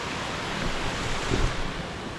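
Steady, broadband rushing of Ugsad waterfall on the Talahiban trail in Calbayog City, loud and continuous with no break, like heavy falling water heard from nearby.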